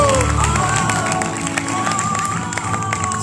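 A crowd at a live salsa dance show in Rome applauds and cheers, a dense continuous wash of clapping and voices filling the room for the whole stretch, with an announcer's voice heard over it.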